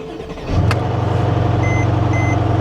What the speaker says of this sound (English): It sounds like it's got a exhaust.